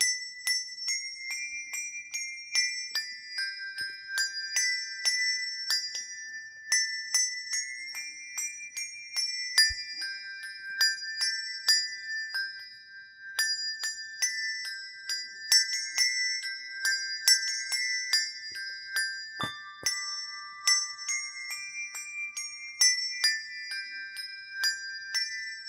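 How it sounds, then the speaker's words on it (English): Six handbells rung six-in-hand by one player pick out the melody of Ode to Joy, clear ringing tones struck one after another in a steady tune, each note sustaining and overlapping the next, with no talking. "these are the 6 bells that are in Ode to Joy"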